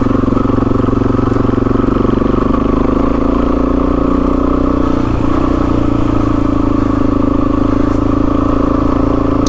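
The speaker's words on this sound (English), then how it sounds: "here's this second gear, and I just feel like I am lugging to the point where you feel like you're gonna stall it" A motorcycle engine lugging at low revs in second gear through sand, a loud continuous labored rumble with uneven clattering pulses, close and unbroken, no talking.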